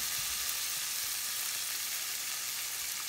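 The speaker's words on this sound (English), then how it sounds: "now I'm gonna add some roasted tomatoes, diced tomatoes" Diced roasted tomatoes hiss in a hot pan for shrimp and grits, a dense, even sizzle that holds steady and close throughout with no voices.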